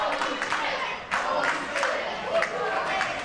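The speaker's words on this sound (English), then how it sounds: "The crowd as impressed with this matchup as we are, Jordan." A wrestling crowd claps and applauds at a live indoor match, scattered hand claps building into rhythmic bursts, somewhat distant beneath arena noise.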